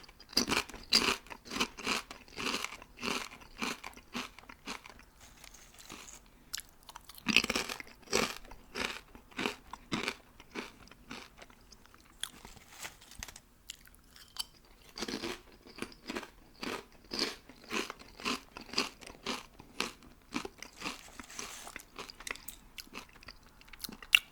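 Crunchy potato chips eaten close up, with steady crisp biting and chewing crunches repeating continuously and fairly evenly throughout.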